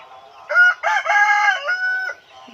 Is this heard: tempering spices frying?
no